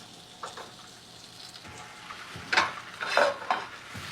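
Carrots cooked with butter and salt simmer and reduce in a pan, a soft bubbling sizzle broken by a few clinks and scrapes of a utensil against the pan.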